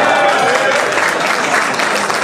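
An audience at a business forum breaks into applause, a thick, sustained patter of many hands filling the room for a couple of seconds.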